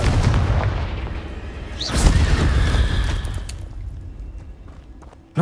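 A Confringo blasting spell explodes in the Hogwarts Legacy video game: a sharp, loud burst with a deep rumble over ongoing game effects, fading into a lower tail before a short final thump.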